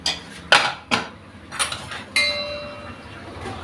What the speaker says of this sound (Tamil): அது வரைக்கும் நம்ம குக்கர் திறந்து பார்க்கலாம்.